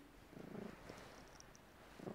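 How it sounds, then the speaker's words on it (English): Elderly seventeen-year-old Siamese cat purring very softly and close, low rhythmic pulses in two short bursts separated by a quiet pause. "Purring."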